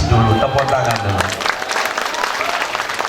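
Applause from an audience in a school hall during a talk at a senior high school, a burst of clapping that starts loud and thins out over a few seconds, with a voice speaking over it.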